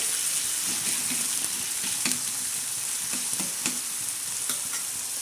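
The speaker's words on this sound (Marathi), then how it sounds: "असा पूर्ण ठेसा टाकणार आहे खरपूस असा मस्त असा आपण याच्यावर भाजून घेणार आहोत" Green chili, garlic and tomato thecha roasting in a pan makes a continuous loud sizzle with scattered crackles and pops, close and alone, with no voices.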